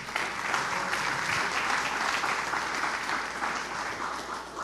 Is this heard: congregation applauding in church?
yes